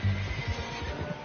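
A horse neighs in Red Dead Redemption, a short, loud, close whinny that fills the brief moment over a dense low rumble.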